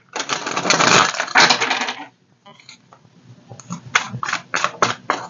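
A deck of tarot cards being shuffled: a loud, dense riffling burst for about two seconds, then a brief pause and a series of shorter, crisp card flicks and taps, close up and with no voices.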